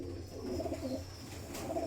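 A Firozpuri pigeon coos softly, its low, rolling calls repeating over a faint background hum, close but quiet.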